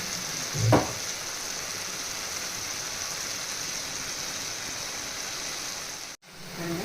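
A steady, even bubbling and sizzling of okra sambar simmering in a pot, continuous throughout, with a brief clatter early on and a short dropout near the end.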